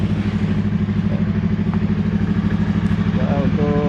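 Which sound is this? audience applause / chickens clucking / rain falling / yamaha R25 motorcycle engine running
yamaha R25 motorcycle engine running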